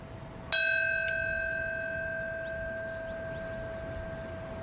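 Single bell struck once at the 9/11 memorial in New York during a minute of silence, a clear ringing tone decaying slowly in an otherwise quiet outdoor setting.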